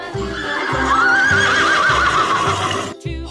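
A horse neighs close and loud in a long, quavering whinny, with a steady low rhythmic pulse beneath and a brief break near the end.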